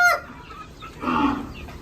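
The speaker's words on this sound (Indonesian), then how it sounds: "Ayame akeh banget ayam dhewe." A chicken gives a short, loud cluck up close, then follows with a longer throaty clucking call among farmyard fowl.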